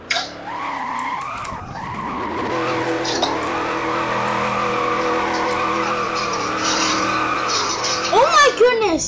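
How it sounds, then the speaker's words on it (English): A car drifts through corners in the video game Dukes, its tires squealing loudly and continuously over a droning engine, with a quick run of rising and falling squeals near the end and a voice talking over it. "Oh yeah, it drifts a lot."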